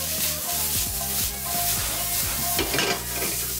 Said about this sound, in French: on les fait sauter jusqu'à ce qu'elles soient colorées